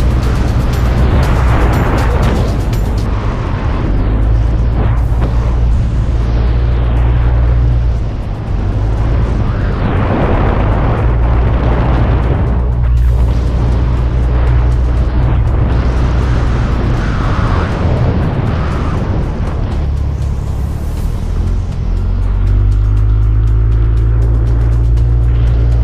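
A motorcycle engine roars loudly and continuously from the rider's own bike during an endurance ride as it overtakes another rider, with heavy wind rumble and rising and falling revs throughout.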